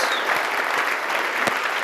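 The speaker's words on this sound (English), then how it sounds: "let's start with the applause" Audience applause at a workplace learning talk, steady dense clapping from a roomful of people, loud and continuous for the whole stretch.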